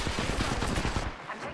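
Gunfire in the video game Apex Legends, a dense, loud burst of rapid shots crackling over the first second before thinning into a softer tail.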